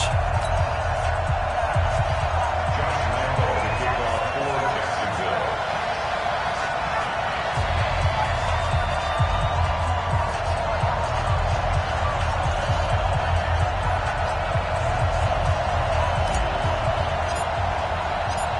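Stadium crowd in an EA Sports NFL video game during a Cincinnati Bengals versus Jacksonville Jaguars match, a constant loud roar of cheering throughout with a commentator talking over it.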